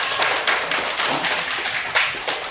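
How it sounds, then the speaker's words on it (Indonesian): A classroom full of students claps together in applause, a dense, steady patter of many hands with a slightly pulsing rhythm, close and fairly loud, with no voices over it. "Ya, berikan tepuk tangan."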